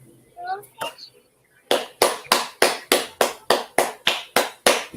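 A short murmur of voices gives way to about eleven sharp, evenly spaced hand claps, close and loud, in a steady, unbroken rhythm.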